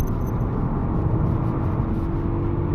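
A 2022 Nissan Aura Note accelerates along a straight, giving a low, even drivetrain hum and road rumble that holds steady throughout with no talk.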